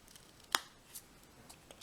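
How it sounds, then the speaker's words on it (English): Scissors snipping paper card for a four-panel Z-fold card, one sharp, close snip standing alone against a quiet background, with faint light rustles after it. "then come back with my scissors"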